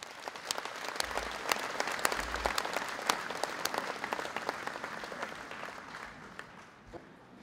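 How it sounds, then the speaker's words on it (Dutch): Warm audience applause at a tennis club's 50th-anniversary event, a sustained crowd of clapping hands with sharp individual claps standing out, gradually thinning toward the end. "Alvast een heel warm applaus voor Mirjam en Kirstie."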